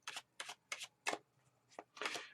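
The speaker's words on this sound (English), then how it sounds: "I need to shuffle a little bit more." Tarot cards being shuffled by hand, six crisp riffling bursts in a steady rhythm, close and clear with short pauses between.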